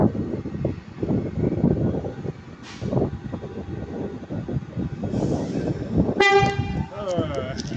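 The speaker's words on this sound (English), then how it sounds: "35122 is going to be leaving" Locomotive 35122 pulling out of Crewe station, a low rumbling engine and wheel noise under ongoing talk, followed near the end by a sharp, loud multi-tone horn blast.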